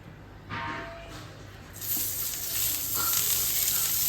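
Oil heats in a pan on a gas burner beneath a banana leaf, starting as a soft hiss and swelling into a steady, close sizzle that grows louder toward the end.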